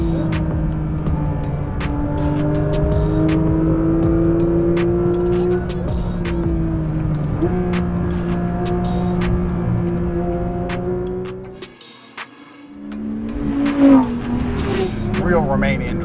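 Porsche GT3 RS at full throttle, its engine a loud, sustained high-revving drone with rising harmonic sweeps, briefly cutting out near the end before surging back, with a voice speaking over it.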